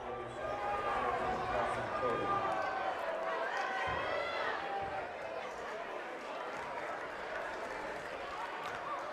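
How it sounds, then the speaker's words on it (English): Steady crowd noise fills a high school boys basketball game between Viewmont and Highland, with the Highland student section loud and continuous around free throws after a technical foul, while talk runs over the top. "Pretty good crowd on the Highland student side."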